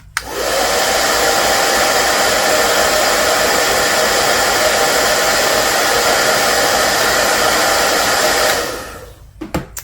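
A hair dryer blows steadily to dry wet paint, a loud close whooshing whir holding constant for about eight seconds before switching off, followed by a few faint clicks.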